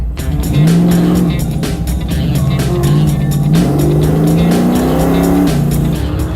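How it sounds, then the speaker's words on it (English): A car laps a race track at dusk, its engine droning loudly and rising and falling in pitch as it accelerates and eases off through the turns, with a continuous rumble underneath. "I am literally the last car on the track."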